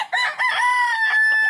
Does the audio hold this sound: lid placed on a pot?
no